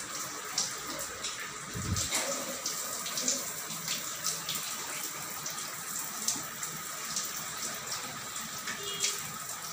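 Water pours steadily during a bath, a close, continuous splashing gush with small irregular spatters throughout and no talking over it.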